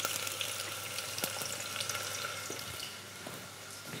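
Garlic and chopped onion sizzle and crackle steadily in a hot frying pan, a dense, continuous fry with small pops throughout, close and fairly loud, with no talking over it.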